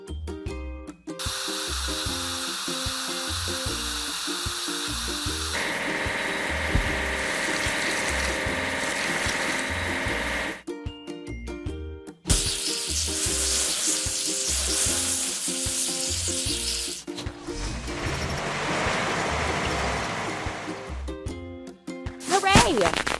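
A cartoon truck gets washed with spraying water in a kids' truck-building video game, a steady hissing spray that shifts in tone and stops and restarts, with bright game music and chimes underneath.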